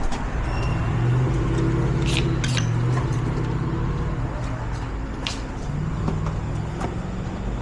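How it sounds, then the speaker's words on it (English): A newer commercial truck idles and rumbles with a rough, old-sounding engine, a constant low drone with occasional air-brake hisses and clanks, alongside faint talking. "I didn't expect a truck that new to be making all those old truck sounds"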